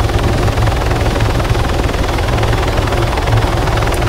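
A helicopter in the video game Arma 3 produces a loud, continuous rotor thump and engine drone that stays heavy and steady throughout, close and dominant, with no voices over it.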